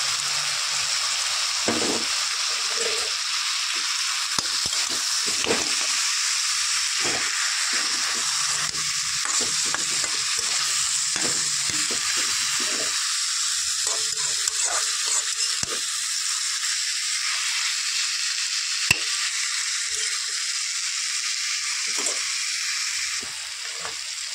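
Soaked mung dal goes into a pan of frying meat and sizzles with a steady hiss, while stirring adds scattered scrapes and clicks throughout. The cooking is close, with no talk.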